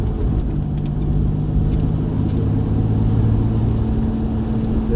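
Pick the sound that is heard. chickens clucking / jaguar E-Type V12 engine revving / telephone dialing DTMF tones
jaguar E-Type V12 engine revving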